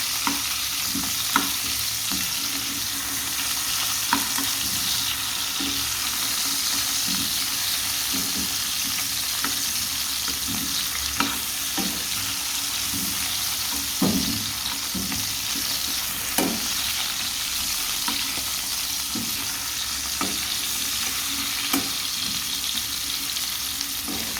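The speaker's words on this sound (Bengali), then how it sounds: "আলুটা আমি আগে ভেজে নিচ্ছি" Potatoes frying in oil for biryani sizzle loudly and steadily, with frequent light knocks and scrapes as they are stirred, and no voices.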